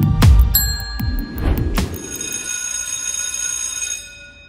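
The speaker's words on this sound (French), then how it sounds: "Cette sonnerie, ce n'est pas celle qui marque la fin de la pause au lycée Paul Héroult à Saint-Jean-de-Maurienne, mais celle d'une cour d'assises" A court session bell at a cour d'assises, used in a mock trial held at a high school, rings in a sustained electric peal for several seconds and then stops, leaving a faint lingering ring.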